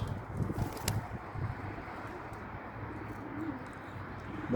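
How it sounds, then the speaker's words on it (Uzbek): Soft pigeon cooing sounds faintly amid a steady rustling background, low murmurs drifting in and out at a distance. "Xohlasa har yilgidek bu yil ham uchirgani sezonga kaptarlar tayyor bo'lyapti mana"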